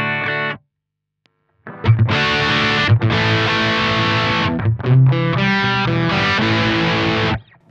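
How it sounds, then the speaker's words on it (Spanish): A JHS AT+ distortion pedal, switched on with all controls at halfway, drives an electric guitar as chords and riffs ring out loud and saturated after a brief pause, with a noticeable jump in volume. "Vamos a prender el pedal con todos los controles a la mitad, vas a escuchar primero que hay un salto de volumen."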